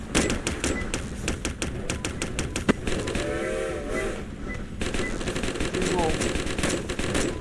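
Rapid bursts of video game gunfire crack in quick repeated volleys, loud and close, with brief gaps and faint game sounds between them.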